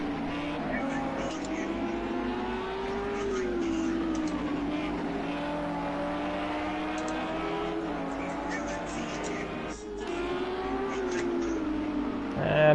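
Race cars including a BMW lapping the Brno circuit in Project CARS 2, a steady droning engine note shifting pitch through gears, with a commentator talking over it throughout.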